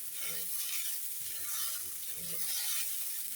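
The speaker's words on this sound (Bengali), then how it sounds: "আমি ডালটা ভাজি করতেছি প্রথমে" Mung dal dry-roasting in a pan makes a steady, close, crackling sizzle with faint scraping stirs underneath.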